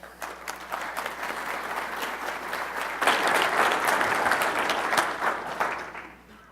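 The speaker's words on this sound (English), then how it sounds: "Let's give them a round of applause" A cybersecurity conference audience applauds the panel speakers: a steady round of clapping that swells louder midway, then fades out at the end.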